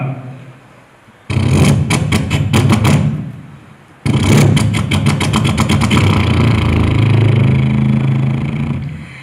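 A voice mimics a generator starting up in a State Kalolsavam mimicry performance: a few sharp sputtering bursts, a brief pause, then a loud, steady rattling chug that keeps running.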